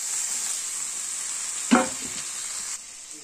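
Tomatoes tipped into a hot pan of potatoes in a home kitchen, giving a short burst of sizzle over a steady frying hiss, then settling back to a constant crackle.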